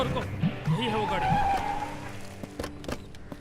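A car skids to a stop with a wavering tyre squeal that rises and fades over about a second, followed by scattered knocks and background noise.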